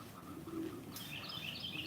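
Birds chirp at a busy backyard feeder, with soft coos and scattered high tweets over a faint background hiss, distant and quiet, the calls growing brighter near the end.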